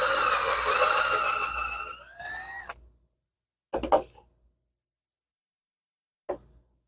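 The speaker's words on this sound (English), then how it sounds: "So let's drill a test hole here." A power drill bores a test hole for a circle cutting jig, a loud steady whine for about two seconds that winds down, followed by two brief bursts of the drill later in near silence.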